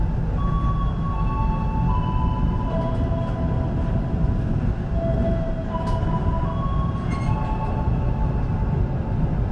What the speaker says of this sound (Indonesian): kereta api Bogowonto sudah berangkat dari stasiun Jatibarang